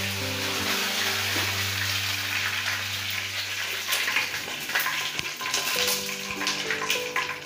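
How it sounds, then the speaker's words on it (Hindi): Cumin, mustard seeds and curry leaves fry in hot oil for a Gujarati kadhi, a steady loud sizzle that grows crackly and spattery partway through, with background music and no talking. "तेल गर्म हो गया, इसमें हम आधा चम्मच जीरा डालेंगे"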